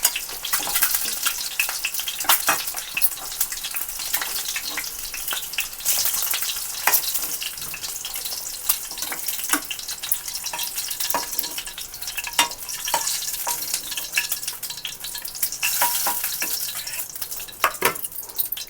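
Onion pieces fry in hot oil in a pan with a continuous bright sizzle and scattered crackles and pops. Occasional stirring sounds come through over about nineteen seconds, with no talking.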